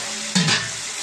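Cumin masala paste frying in a pan for a chicken curry, heard as a steady low sizzle with a brief louder stir or scrape near the middle; close and fairly quiet, with no talking.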